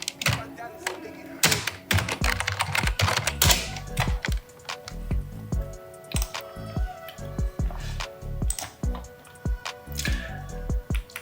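Someone types a search on a computer keyboard, a fast close clatter of key presses in bursts with brief pauses, loud and crisp with no talk over it.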